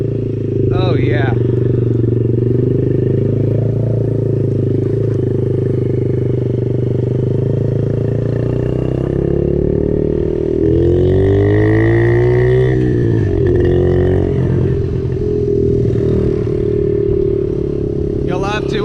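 A Yamaha TTR-50 dirt bike carrying a large rider hums with a loud, steady engine drone close by, its pitch swelling and dipping as the throttle changes, with wind noise throughout.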